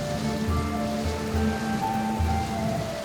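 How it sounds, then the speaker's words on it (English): Heavy rain pours down in a steady, dense hiss, loud and continuous throughout with no pauses and no voices, with faint tonal music beneath it. "the rain began to pour heavily down."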